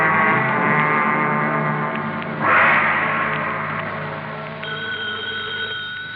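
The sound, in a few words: telephone bell ringing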